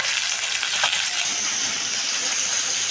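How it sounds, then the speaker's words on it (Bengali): Fish frying in a pan, a loud, close, continuous sizzle with a faint clink partway through, no voices. "মাছটাকে একটু ভেজে নিচ্ছি।"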